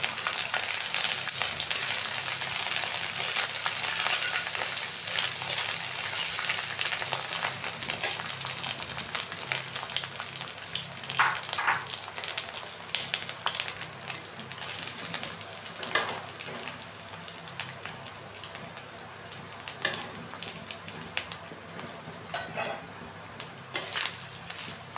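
Chopped ginger and garlic fry in a pan for a raw banana kofta curry, giving a steady, close hiss and crackle of hot oil throughout, with occasional stirring.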